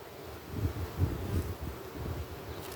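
A hive of bees hums steadily during a beehive inspection, a dense, low buzz that swells and dips slightly as frames are worked, close and continuous with no voices.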